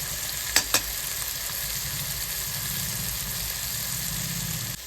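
Biryani masala, turmeric and homemade spice mix frying in a pan for egg biryani, a loud continuous sizzle close by with two sharp spoon taps early on, then steady frying alone.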